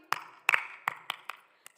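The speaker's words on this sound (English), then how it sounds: "I'm clapping because I'm happy today" Bare hands clapping alone in a quiet room, about seven sharp, separate claps in an uneven rhythm, close and crisp, with a quick double clap near the middle.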